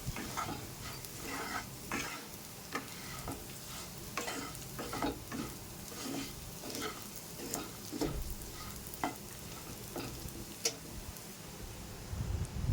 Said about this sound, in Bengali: শুকনো লঙ্কার গুঁড়ো, জিরের গুঁড়ো আর ধনের গুঁড়ো দিয়ে এবার ভালো করে মিশিয়ে নেব।